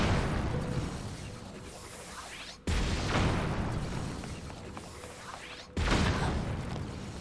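Cannon blasts in Zelda: Tears of the Kingdom, two loud booming shots a few seconds apart, each a sharp broadband burst that decays slowly into a rumbling tail, with no talk over them.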